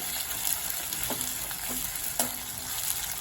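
Tomato and potato-spinach curry fries in a pan with a steady close sizzle, broken by a few soft stirring scrapes.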